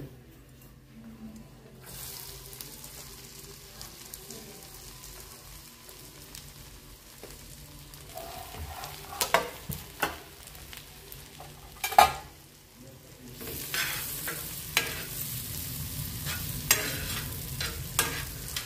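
Cumin seeds and onion fry in a pan for an egg masala, a steady close sizzle broken by scraping stirs, with louder crackling bursts in the second half.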